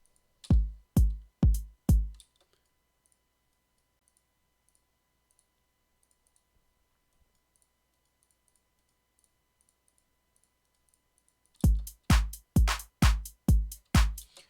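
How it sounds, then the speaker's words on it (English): Computer mouse clicks placing and removing steps in the FL Studio 20 step sequencer: a quick run of four crisp clicks, a long silent gap, then six more evenly spaced clicks, close and alone. "Left click to make it, right click to get it away."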